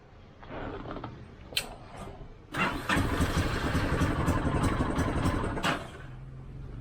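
A cold Hero Karizma motorcycle struggles to start: rough cranking and sputtering bursts, then the engine catches and runs with a steady, loud idle close by before settling.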